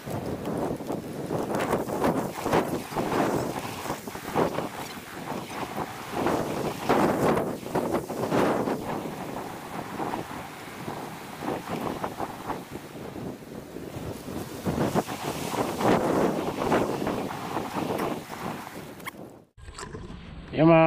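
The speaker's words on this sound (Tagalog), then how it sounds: "Napakahangin po kasi, grabe." Strong outdoor wind buffets the microphone in loud, rumbling gusts for almost the whole stretch, with a voice partly under it, before the blowing cuts off abruptly near the end.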